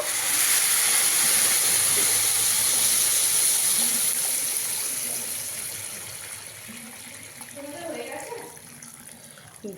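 Hot water is poured into pulao rice frying in a pan, raising a loud, broad steaming hiss that slowly fades over several seconds while a voice speaks quietly underneath.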